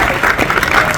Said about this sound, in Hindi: बहुत एक बार तालियां बजाइए हमारे बेहतरीन खूबसूरत लड़कियों के लिए